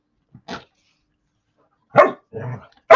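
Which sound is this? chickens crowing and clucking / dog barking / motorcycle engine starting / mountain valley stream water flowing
dog barking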